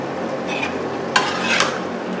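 Chicken biryani is stirred and mixed in a pot over a constant sizzle, with two brief scraping strokes of the spoon partway through.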